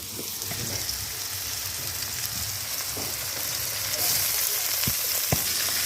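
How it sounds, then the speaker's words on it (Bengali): Pomfret fish frying in oil with chopped onion, a steady close sizzle with light crackling pops throughout and no talking. "মাছ ভাজি হবে পেঁয়াজ কুচি দিয়ে"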